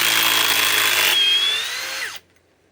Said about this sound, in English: let's see how fast the Flex can drive it